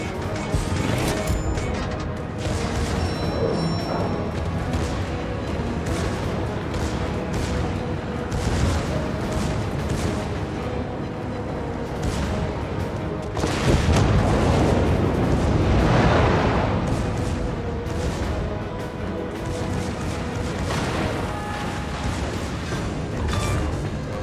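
Heavy booming blasts and rumbling detonations in a World of Warships naval battle with torpedoes and submarines, repeated loud impacts over a churning background.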